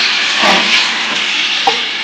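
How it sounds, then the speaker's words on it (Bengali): Marinated chicken pieces dropped into hot oil for a home-style chicken bhuna, giving a loud, continuous close-up sizzle and hiss with a small clatter near the end. "তেলটা গরম হচ্ছে, দেখতে পাচ্ছেন। ম্যারিনেশন করা মাংসটা আমি দিয়ে দিচ্ছি।"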